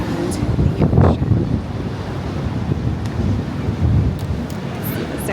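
Ocean surf rolling in at Waikiki beach near a surf break, a steady broad wash of waves with wind buffeting the microphone throughout, swelling slightly at moments.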